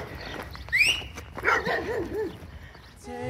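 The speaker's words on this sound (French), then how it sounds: "il y a un chien" A dog barks a few times in quick succession at moderate distance, with a short yelp or whine in among the barks, over outdoor ambience.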